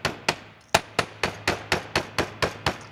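A ball peen hammer strikes metal jewelry-making stock, about eleven sharp, ringing taps in a steady, fairly quick rhythm, close and clear with no talk.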